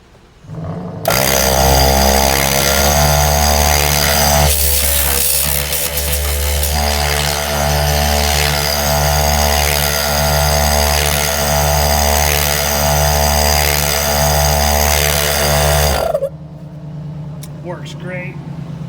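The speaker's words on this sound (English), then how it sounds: "So we just finished installing this air compressor." A freshly installed air compressor on a 2022 Jeep Rubicon runs loud and steady with a harsh buzzing drone, starting abruptly and stopping near the end, after which a quieter idle hum remains.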